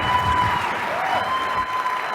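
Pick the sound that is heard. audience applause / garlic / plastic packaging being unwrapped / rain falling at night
audience applause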